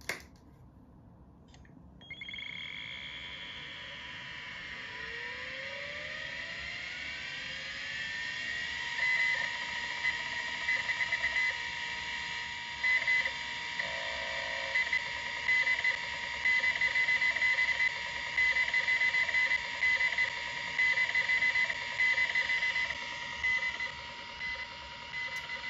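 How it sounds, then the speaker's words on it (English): A mechanical hard drive in a Raspberry Pi Pico HDD synth powers on, its spin-up heard as rising whining tones, followed by a long stretch of steady hum broken by repeated short, pitched access beeps; no voices. "what you're hearing there is the sound of a mechanical drive spinning up and then being accessed"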